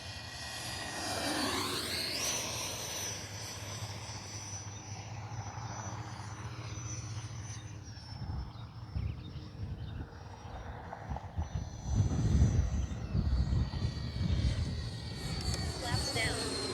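A Freewing F-22 Raptor high-performance 70mm EDF RC jet on its maiden flight, a steady whooshing turbine-like whine passing overhead and shifting in pitch as it manoeuvres in wind, swelling louder toward the end, with people talking nearby.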